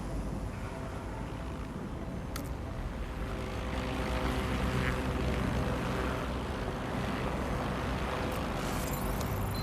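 A drone sweeps the area overhead in the video game Watch Dogs: Legion. It makes a steady propeller-like drone that stays constant and moderately loud throughout, with a couple of faint clicks.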